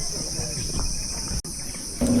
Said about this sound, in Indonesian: banyak suara serangga, jangkrik, jarengpung,